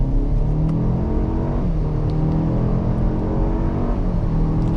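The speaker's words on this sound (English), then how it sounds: "Let's go ahead and hit the gas." A 2024 Cadillac XT4 SUV accelerates, heard from inside as a loud, steady engine drone rising in pitch with a gear shift partway through.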